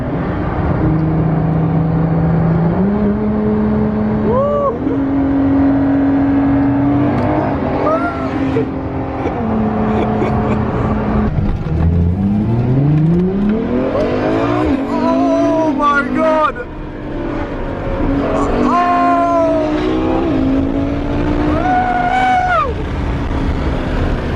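Bugatti and LaFerrari supercars accelerate hard side by side on a sand-edged strip, engines climbing through rising revs with gear-change drops, loud and close throughout, mixed with excited crowd voices and talk.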